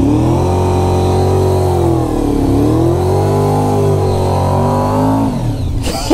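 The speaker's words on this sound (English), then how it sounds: "I want to do a burnout here so badly" A motorcycle does a burnout at an abandoned military fort, its engine held at high, wavering revs in a loud, sustained whine that dips and rises before cutting off abruptly at the end.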